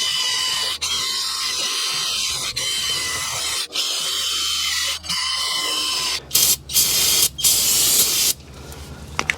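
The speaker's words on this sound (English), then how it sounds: "we're going to get a wire wheel and clean that up before we put the new rotor on" A wire wheel scrubs rust off the rear hub of a Mazda CX-9 during a brake pad and rotor job, giving a loud, continuous abrasive hiss close by. Brief pauses break it into bursts, with the last few bursts coming in short, choppy runs.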